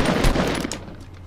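Gunfire in the video game Fortnite: a dense burst of shots packed into the first half, loud and close, then tailing off into quieter game ambience.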